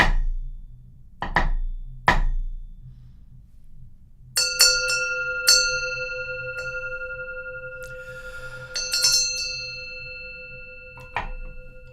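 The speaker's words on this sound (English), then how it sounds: "Hearing the sound of the bell, all thinking is cut off." A meditation bell is struck a few times during a Zen service, each ring clear and sustained with a long fading tone, among a few sharper knocks and light taps in a quiet room.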